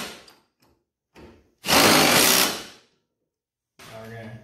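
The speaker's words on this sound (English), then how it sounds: "And run them on with the gun." A pneumatic impact gun runs a bolt onto a Craftsman lawn mower in a workshop, one loud buzzing whirr of about a second after short knocks and clicks, followed by someone speaking.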